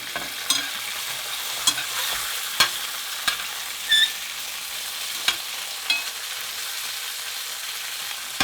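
Steak fries in garlic butter in a pan and is basted on both sides, giving a steady soft sizzle with sharp spoon clinks and scrapes every second or so. The sound is close and no one speaks.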